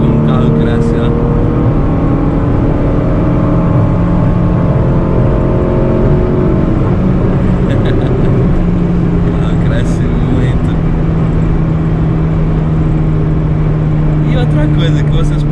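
A 1997 Chevrolet Corsa Wind MPFI pulls steadily up through its revs on a highway, the engine drone climbing continuously and loud inside the cabin with constant road and wind noise.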